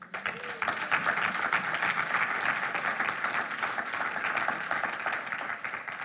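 A church congregation applauds steadily and loudly, a dense continuous clapping that holds for several seconds with some voices mixed in.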